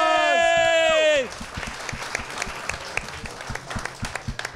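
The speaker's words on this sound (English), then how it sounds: "Give her a big round of applause" Live show audience applause, heard as scattered clapping and crowd noise after a loud tonal sweep of music at the start, moderately distant and uneven.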